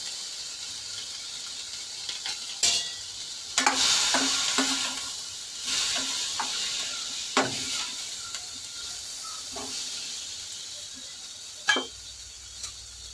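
Chili powder is stirred into a frying eggplant and drumstick curry: a soft sizzle runs underneath while a spoon knocks and scrapes against the pan in scattered sharp clicks.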